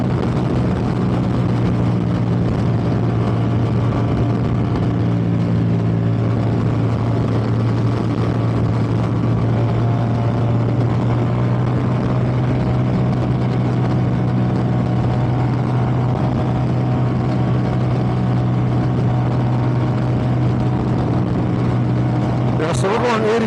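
A 2023 Ducati Diavel V4 motorcycle cruising on a cold freeway at about 85 mph, a steady droning engine hum blended with heavy wind rush throughout.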